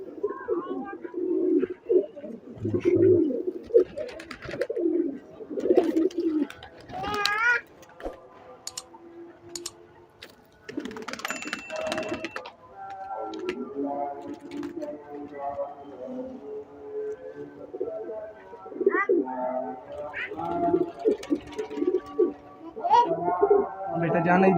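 Star breeder pigeons coo in low, repeated murmurs close by, interspersed with wing flutters and clicks while someone talks over them intermittently.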